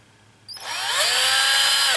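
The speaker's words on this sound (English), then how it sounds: "I'm just going to drill out each one of these." A power drill bores into a resin model kit wheel for a Damnation Alley Landmaster; after a short quiet start it spins up halfway through into a loud, steady, close whine that holds to the end.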